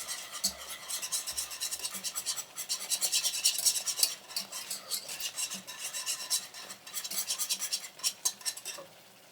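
A whisk scrapes steadily around a pan as a plant-based milk sauce cooks, making a continuous rasping, stirring sound with rhythmic metallic scratches, close and fairly loud with no talk.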